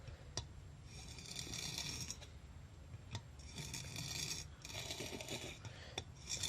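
A wood chisel rubbed along a water-soaked whetstone with a honing guide, giving repeated wet rasping strokes in long bursts, with brief pauses and small clicks between passes, close and steady at moderate volume.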